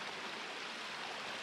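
Flowing stream water near a waterfall makes a steady, even rushing hiss that fills the space with no pauses or voices.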